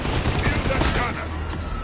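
Rapid bursts of gunfire from the video game Warhammer 40K Darktide, played on PS5 as an Ogryn Skullbreaker, crackle loud and dense throughout, with a voice speaking over the fire.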